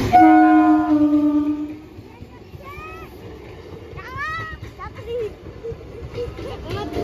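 A train pulls in with a loud sustained horn blast at first, followed by quieter rumbling and squealing tones, while people talk nearby.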